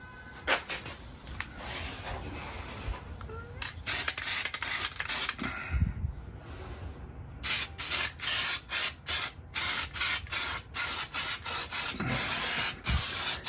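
Steel-It coating is sprayed from an aerosol can onto car parts during a Crown Vic swap on a C20 truck, heard as hissing bursts, one long spray followed by a run of short, regular pulses close by.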